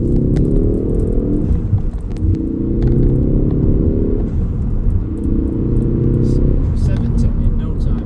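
A Ford Focus ST with the 2.0 EcoBoost engine pulls hard through the gears, its loud engine note climbing in pitch and then dropping back at each shift, three rising sweeps in a row heard from inside the car.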